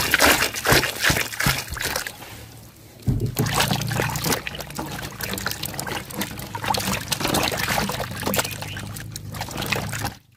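Freshly harvested mangoes being washed by hand in water, with steady splashing, trickling and pouring sounds throughout, a brief quieter pause partway, and no talking.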